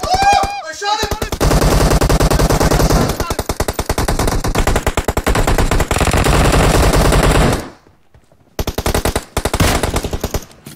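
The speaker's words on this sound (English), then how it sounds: "I shot him" Loud, rapid automatic gunfire from a team deathmatch video game rattles in dense bursts for about seven seconds, drops away into a brief lull, then resumes in sharp, shorter volleys.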